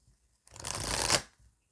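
A deck of tarot cards is shuffled and cut in one brisk, close riffle lasting under a second, then stops, with a few faint card taps before and after.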